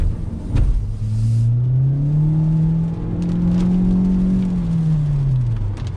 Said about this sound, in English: So there was a little bit of spinning on the inner wheel